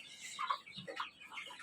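Tiger chickens clucking in a series of short, close calls, with irregular rhythm and no other sounds.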